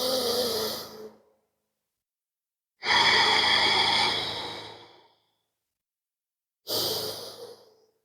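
Slow, deep breaths during a yoga practice: three long airy exhales and inhales close to the microphone, separated by stretches of near silence.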